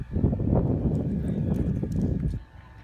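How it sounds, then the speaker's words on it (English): Horse and cart passing on a town street in Atlantic City, New Jersey, hooves clip-clopping in a steady, fairly close rhythm with rumbling wheels before fading near the end. "We've got a horse and cart going past over there."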